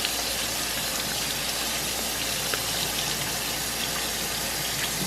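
Running water rinses deseeded dried chiles for pozole, a steady, close, broadband gush like a tap pouring over the pods, continuous and unbroken for the whole stretch with no talk.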